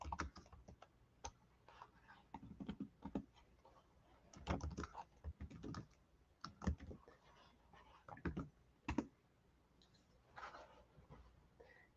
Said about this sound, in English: I'm just going to type in here.